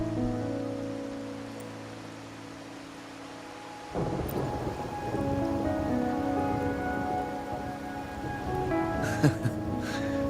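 Steady rainfall from a storm scene in the video game Wuthering Waves, with a rumble of thunder breaking in partway through and the rain hissing on afterward, no talk.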